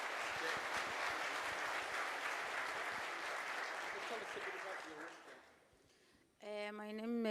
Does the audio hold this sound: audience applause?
yes